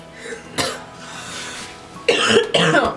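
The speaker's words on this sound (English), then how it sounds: "I don't want to cough in it" Two bursts of coughing close to the microphone, a short one early on and a louder pair near the end, with quiet room noise between.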